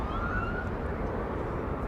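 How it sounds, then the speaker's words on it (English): A police siren wails steadily near Los Angeles International Airport, its rising and falling tone heard at moderate distance over a low background rumble, with no talking. "Did you hear the siren? That's what it sounds like."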